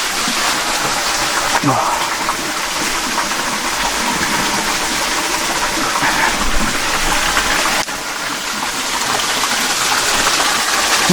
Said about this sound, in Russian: Вот он, водопад.